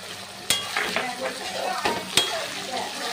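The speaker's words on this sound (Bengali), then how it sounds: "এবার আমি টমেটো কুচিটা দিয়ে দেব আর দিয়ে দেবো লঙ্কা কুচি" Chopped tomato and green chilli fry in spices in a pan while cooking moong dal, with a continuous sizzle and a couple of sharp utensil knocks against the pan as it is stirred.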